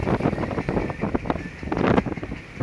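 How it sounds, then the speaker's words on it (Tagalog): Strong wind buffets the microphone in a steady, rough roar, with gusts swelling and fading and no voices. "marinig nyo rin ang ingay ng hangin."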